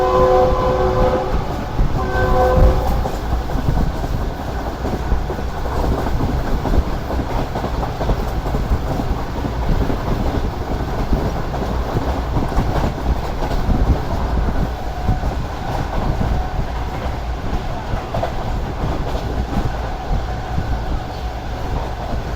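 The Pak Business Express rushes along at over 100 km/h, a loud continuous roar of wheels and carriages with a brief horn blast near the start, no talking over it.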